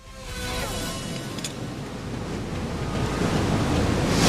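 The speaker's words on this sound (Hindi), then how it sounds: "मैं इस वाटरफॉल के नीचे उतरकर देखना चाहता हूँ कि बहते हुए पानी की ताकत किस तरह पत्थरों को कुरेद कर" Water pours over a Hawaiian waterfall in a steady, broad roar that builds slightly in loudness. Wind buffets the microphone, and no voices are heard.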